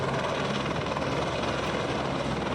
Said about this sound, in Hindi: हर 2-5 मिनट में 1-2 हेलीकॉप्टर उतरते रहते हैं।